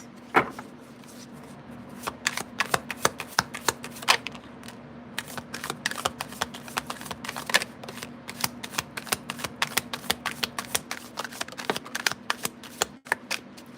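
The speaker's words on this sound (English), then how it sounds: "One more shuffle, I say." A deck of tarot cards being shuffled by hand, a fast, steady run of crisp riffling snaps and flicks lasting many seconds, close and fairly quiet over a faint low hum.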